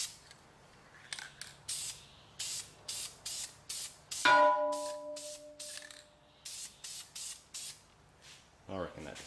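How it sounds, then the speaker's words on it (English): Short bursts of a spray paint can applying a light dust coat of black paint onto stock wheel rims of a Nissan Y62 Patrol, a dozen or so quick hisses in a regular rhythm, close and clear, with a brief metallic ring midway. "I usually do a bit of a dust coat first"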